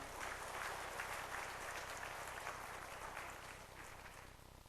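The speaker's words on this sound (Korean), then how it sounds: "우리 뜨거운 박수로 축하하시기 바랍니다." A Sunday church congregation claps in celebration, a soft, steady wash of applause heard from a distance that slowly tapers off.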